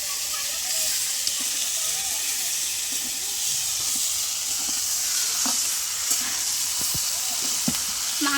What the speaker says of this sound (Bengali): আজকে আমি চলে যাচ্ছি বলে মাংস রান্না হচ্ছে